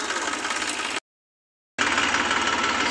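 Massey Ferguson tractor engine running with a tiller attached in a field, a loud, steady diesel drone with a brief gap of dead silence partway through before the same rumble resumes.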